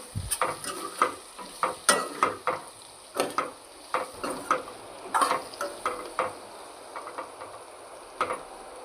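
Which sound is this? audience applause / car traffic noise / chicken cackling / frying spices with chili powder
frying spices with chili powder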